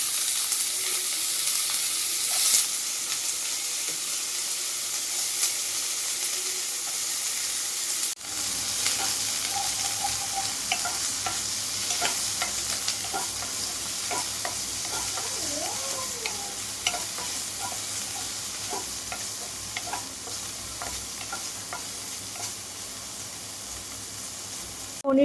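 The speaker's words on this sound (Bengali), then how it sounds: "এগুলো হালকা করে ভেজে নিই।" Paneer cubes frying in a pan for a homemade veg pizza, giving a steady close sizzle with occasional stirring scrapes throughout, and the hiss rising after the first few seconds.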